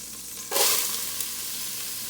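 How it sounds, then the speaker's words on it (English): Onion and garlic hit hot oil in a pan of browned steak, bursting into a loud, bright sizzle at once that settles into a steady, close frying hiss with a faint stir sound. "now that we have our meat browned, we're going to go ahead and add our onion and our garlic"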